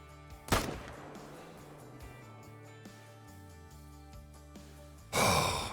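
Hunting rifle gunshots in the Call of the Wild hunting game, set on an African map: a sharp loud crack near the start, then a quieter ambient stretch, and a second loud blast with a long decaying tail at the end.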